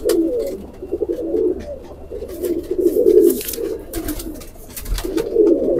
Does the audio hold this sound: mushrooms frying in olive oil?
no